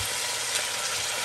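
Meat sizzles in olive oil in a pan over reduced heat, a steady bright crackle and hiss that stays close and even throughout the short stretch.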